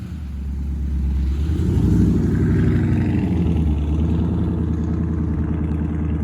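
A Dodge Charger Scat Pack muscle car accelerates nearby, its engine rising from a low rumble into a loud, sustained roar that builds in the first couple of seconds and holds strong to the end, with no speech.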